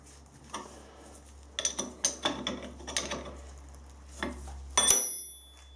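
A ratchet wrench clicks in short rhythmic bursts while a part is tightened into place on a Lister trolley, close metallic ticking over a low steady hum, ending in a sharper clank.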